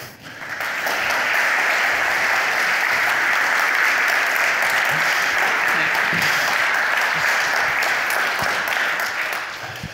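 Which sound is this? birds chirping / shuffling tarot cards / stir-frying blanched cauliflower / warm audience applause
warm audience applause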